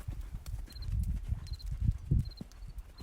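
Hooves of a horse moving at a steady gait in an arena riding lesson, muffled rhythmic thuds close by with faint high chirps in the background.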